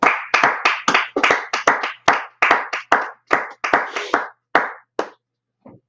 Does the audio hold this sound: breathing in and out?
no